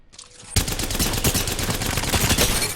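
Rapid automatic Havoc rifle fire in Apex Legends starts abruptly after a short lead-in and continues as a dense, loud burst of evenly spaced shots to the end.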